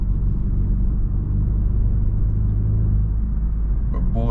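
Tire spinning on a 2022 Hyundai Sonata N Line, a steady loud low rumble of road and drivetrain noise inside the car, continuous throughout with no talk.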